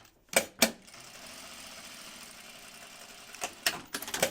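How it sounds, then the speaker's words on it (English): A sewing machine stitches a quarter-inch seam along the edges of a fabric bag. Short clattering bursts come at the start and end, with a steady mechanical whir between them, close and moderately quiet. "we're going to sew these edges right here"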